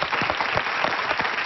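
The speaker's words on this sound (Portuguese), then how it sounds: "Uma salva de palmas para ele." A studio audience on a Portuguese TV talk show applauds in a brief, dense burst of clapping, moderately loud and steady.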